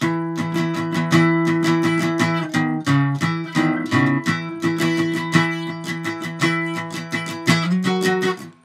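Guitar strums a full chord progression for a song, with steady sustained chords changing every second or so, loud and alone without any voice.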